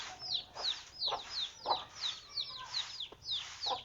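Backyard chickens clucking close by in a rapid series of short, bright, repeated calls over a quiet background, with no one speaking.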